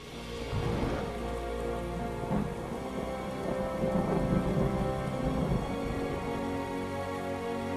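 Steady rain and rumbling thunder from a film storm scene, a continuous wash of rainfall with low thunder rolls building and fading throughout, loud and enveloping with no speech.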